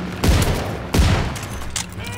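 A double-barrel shotgun in Call of Duty WWII fires two loud, close booms about 0.7 seconds apart, each followed by a decaying rumble, then a smaller click.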